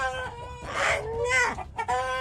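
A rooster taken from the coop for slaughter crows in a drawn-out, wavering call that sounds like a shout of "mother," loud and close, broken into several rising and falling parts.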